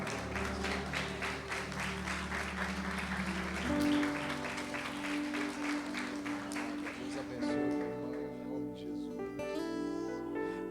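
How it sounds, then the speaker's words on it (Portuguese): A church congregation applauding, a dense continuous wash of clapping mixed with music and voices, moderately loud and steady throughout. "Vamos aplaudir a Jesus pela vida deles."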